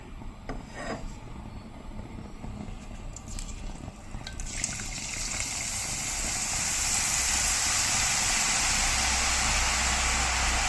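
Boondi batter poured a little at a time through a perforated ladle into hot oil in a frying pan, building into a loud, continuous close sizzle and hiss after a few scraping knocks.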